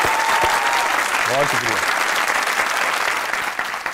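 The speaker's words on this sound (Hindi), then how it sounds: "आज में ऑडियंस में बैठे हुए लोग, इनके लिए तालियां बजाइए।" Studio audience at a Pakistani comedy talk show clapping loudly and steadily for several seconds while someone speaks briefly over the applause.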